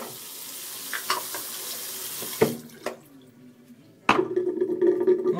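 Tap water splashes from a faucet over a Crabtree & Evelyn Sandalwood shaving soap puck in a mug, broken bursts then a louder steady running stream close by, no voices.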